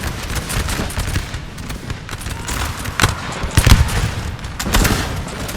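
Musket and rifle volleys crackle through a Napoleonic-era battle in Napoleon Total War, the Battle of Krabbendam of 1799, with dense overlapping shots, a few louder sharp cracks and a constant roar of distant gunfire.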